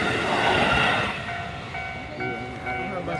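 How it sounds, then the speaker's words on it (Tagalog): A train runs past at a rail line in Kyoto or Nara, Japan, a broad rumbling wash loudest at first then easing to a steady roll, with faint tonal squeals from the wheels and voices in the background. "Oh no, there's another train."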